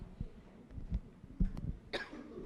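Several coughs from one person at a lecture, short dry bursts spread across a couple of seconds, close and moderately loud, with one sharper, throatier cough near the end.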